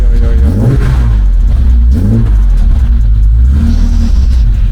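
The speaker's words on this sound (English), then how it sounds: "And this is how the car sounds." Restored BMW 535 engine revving hard, loud and close, with repeated rising and falling throttle blips over a steady rumbling idle.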